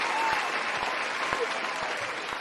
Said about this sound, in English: Definitely needs a round of applause.